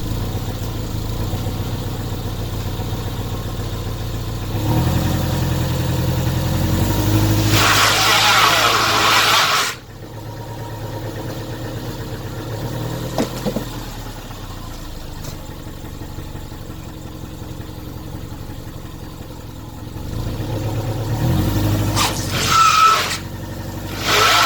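A Subaru with a CVT revs hard while its wheels spin on a traction ramp test, in two loud surges of engine and tire noise separated by quieter idling, with a voice speaking at times.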